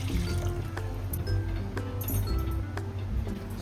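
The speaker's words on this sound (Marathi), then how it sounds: "पाणी टाकून घेऊ पहिला." Water is poured into a pan holding a coconut and jaggery filling in ghee, a close, steady liquid trickle and splash with light clinks and a low hum beneath, no clear talk.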